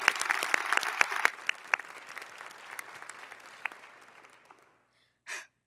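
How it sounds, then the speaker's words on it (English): An audience at an educators' awards ceremony applauds a middle school pep band, clapping loud at first and gradually fading to silence, followed by a brief breathy sound. "Let's give them a round of applause."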